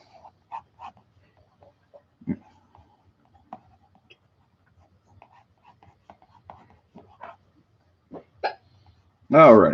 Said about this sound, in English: And now you got the hiccups, huh?